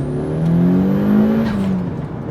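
A 550 hp Ruri Blue Mitsubishi Evo 9 turbo engine pulls hard under boost, its loud rising drone climbing steadily in pitch with a faint whistle above before easing off near the end, no voices.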